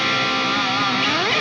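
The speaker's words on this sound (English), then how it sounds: "oh, that's a nice reverb tail right there" An electric guitar's reverb tail rings out alone, a sustained, shimmering wash of decaying tones from a distorted amp setup, fairly loud and smooth throughout.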